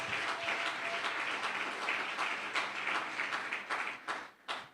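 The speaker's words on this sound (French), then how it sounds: "Acclame encore pour la délivrance" An audience at a deliverance church service applauds, a dense burst of clapping that thins toward the end into a few scattered claps.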